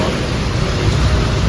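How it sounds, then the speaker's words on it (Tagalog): Heavy rain pours down in a dense, loud, continuous hiss with no pauses. "Ang lakas ng ulan sa labas."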